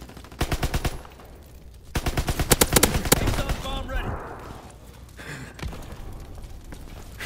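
Rapid machine-gun bursts from Call of Duty: WWII rattle loudly in two clusters, then give way to scattered shots and game noise, with a voice briefly audible.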